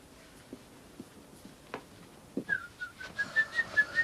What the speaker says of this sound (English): The whistling, it's going right through me.